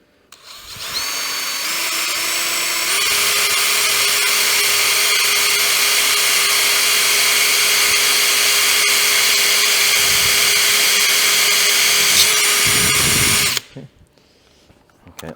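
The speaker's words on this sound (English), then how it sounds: "it takes some drilling that, because you're going through the steel" A power drill bores a pilot hole through steel for a rivet nut on a car roof cover, a loud high whine that ramps up, holds steady for about ten seconds, then cuts off abruptly.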